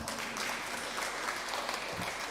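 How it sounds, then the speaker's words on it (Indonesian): Toraja church congregation of Jemaat Rama clapping hands during a pastor's ordination service, a steady burst of many hands applauding together, fairly close and continuous throughout. "Ya, kita tepuk tanganlah."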